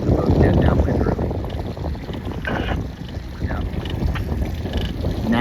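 Strong wind roars steadily across the microphone on a sailboat racing downwind in a regatta, with rushing water and hull noise, a continuous loud buffeting throughout.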